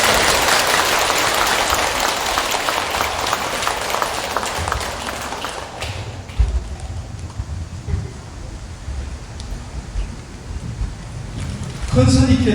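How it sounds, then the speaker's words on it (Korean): Audience applause at a Buddhist dharma assembly in a temple hall, a dense, loud wash of clapping that fades after several seconds into a quieter room with low rumbling and scattered sounds, ending in a brief burst of noise. "네, 박수 부탁드리겠습니다."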